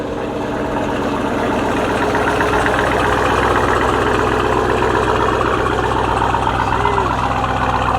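A Jeep Grand Cherokee Trackhawk SUV engine idling steadily nearby, a loud, low rumbling drone with a constant even throb throughout and no voices.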